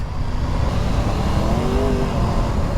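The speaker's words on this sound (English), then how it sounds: "Listen to that T-plane. It just roars." A 2022 Triumph Tiger 1200 triple-cylinder motorcycle engine roars loudly and steadily at speed with a rising tone, mixed with strong wind rush.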